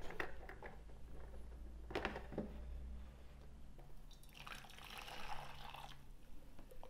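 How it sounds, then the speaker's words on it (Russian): Gelatin liquid poured into a mixture for icon gesso, a faint wet trickling and dripping with a few soft splashes near the start, then a longer stream of pouring toward the end, under a low background hum. "И заливаем наш желатин."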